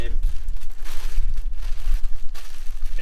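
A yellow plastic bag crinkles and rustles while being handled during packing of a Trangia camping stove and pans, close and loud, irregular bursts of crackling over low handling thumps.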